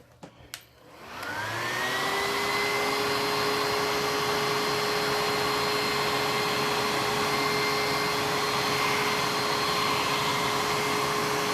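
A hair dryer blows to dry wet acrylic paint, starting up after a few clicks and then holding a loud, steady whine and rush of air close by.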